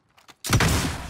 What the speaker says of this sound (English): Rocket launched!